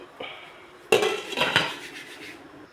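A metal lid set onto a cooking pot of pomfret fish soup, a sharp clank followed by a brief rattle and scraping of metal against metal, close and fairly loud, with no talking.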